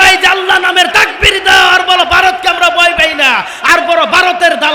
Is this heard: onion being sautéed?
no